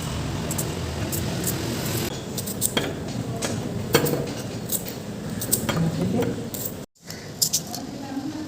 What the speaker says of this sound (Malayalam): ഉള്ളി ചെറുതായി മുഴുവൻ ഒന്ന് അരിഞ്ഞെടുക്കാം.